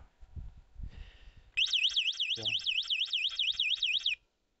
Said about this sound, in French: l'alarme est connectée.